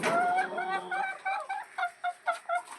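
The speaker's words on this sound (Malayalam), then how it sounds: "എൻ്റെ കോഴി മക്കള് അവരോട് സംസാരിക്കേ" Morning hens nearby give a loud run of squawking clucks that eases into a series of short, evenly spaced clucks, each one clear and separate.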